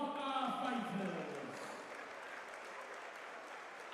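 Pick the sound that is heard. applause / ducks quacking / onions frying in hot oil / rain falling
applause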